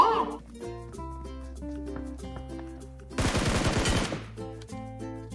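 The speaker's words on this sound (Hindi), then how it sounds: "कोई आया है भाई, गोलियां बरसा रहा, गोलियां बरसा रहा है।" Gunfire in the mobile battle-royale game Battlegrounds Mobile India: a dense burst of rapid automatic shots lasting about a second, loud and close, cutting through a steady musical backdrop.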